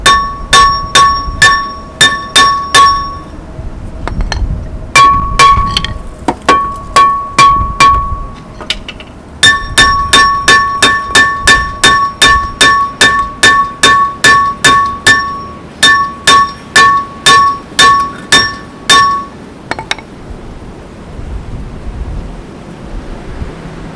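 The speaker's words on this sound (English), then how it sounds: "I'm probably going to have to hammer on it for like an hour." A hammer strikes metal on the rear axle of a Jeep Grand Cherokee WJ during seal and bearing work, in loud, sharp, rhythmic blows grouped in rapid runs with brief pauses between them.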